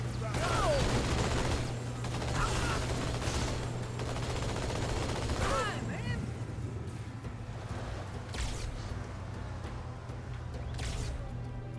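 Gunfire in Halo 2: Anniversary on a solo Legendary run, bursts of weapon fire mixed with explosions and whooshing effects over a steady low hum, with a voice talking over it.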